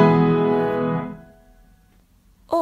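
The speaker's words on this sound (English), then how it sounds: "I can press lots of keys at the same time, and it sounds like this." Many piano keys pressed together ring out as one loud, rich chord that slowly decays over about two seconds into near silence, with a brief new sound starting at the very end.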